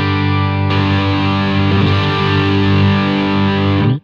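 Electric guitar driven through a valve amp with an MXR Micro Amp boost, a loud, sustained, creamy distorted chord ringing for about four seconds before cutting off abruptly.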